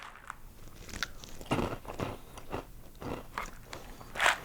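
Dry Froot Loops cereal crunches between the teeth in a series of close, crisp bites and chews, each crackling burst alone with no talk.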